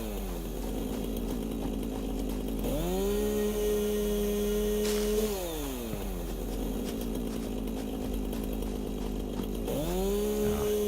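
A chainsaw in the video game Satisfactory revs up in long sustained whines as it cuts through trees, dropping back to idle between two separate cutting passes, loud and close with no talking.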